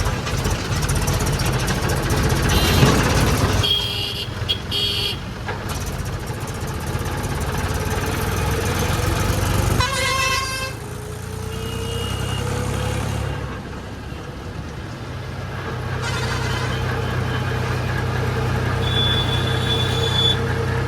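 Engine noise recorded from a tractor on a highway: a loud, steady engine drone runs throughout, with traffic passing, a rising squeal near the middle and a quieter stretch before the engine swells again.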